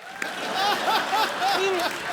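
Studio audience at a comedy talk show claps in a steady wash with light chuckles, running under a voice.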